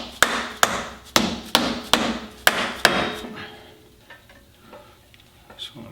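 A hammer taps a brake caliper into place on a reconditioned Dana 30 front axle from a 1972 International Scout, with about seven sharp, close metallic strikes over three seconds, then quiet shop noise.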